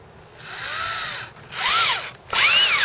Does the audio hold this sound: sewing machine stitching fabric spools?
no